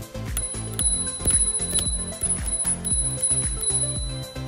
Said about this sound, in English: Along with that, we also have a bell.